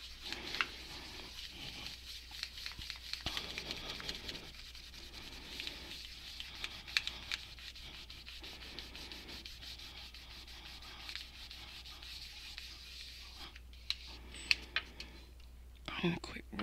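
A piece of scrap card burnishes metal while making a mokume gane pendant, producing soft, close rubbing and scraping strokes in an irregular rhythm, quiet overall, with a few small taps near the end.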